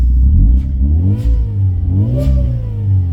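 Supercharged Fiat Punto HGT engine revving close by, rising and falling in pitch twice with a whining, droning tone.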